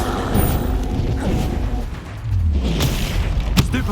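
A Bombarda blasting spell cast in Hogwarts Legacy, a heavy boom with rumbling low end amid ongoing combat noise, with a sharp crack near the end.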